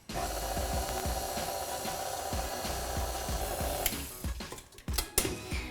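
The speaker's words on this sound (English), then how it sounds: "I'm just going to pop it back on the mixer on the lowest speed, and only for a few seconds." Stand mixer whirring on its lowest speed through lemon cream cheese pound cake batter, a close steady motor drone with rhythmic thumping that stops near the end, followed by a few clattering knocks.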